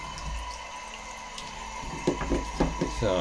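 Running water splashes steadily for a few seconds during a film development rinse, with louder irregular sloshing toward the end as liquid is poured or swirled.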